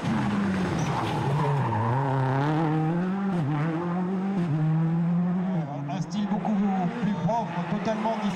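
Peugeot 206 rally car racing on asphalt at a French championship round in Rouergue, its engine note loud and close, rising and falling steadily through gear changes, with tire squeal, while a commentator speaks over it throughout.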